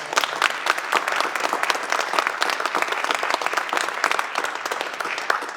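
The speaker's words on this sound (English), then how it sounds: "I would appreciate if we all thank her with a round of applause" An audience at a town deliberative session gives a steady round of applause, a dense, even patter of many hands clapping that lasts throughout without any talking.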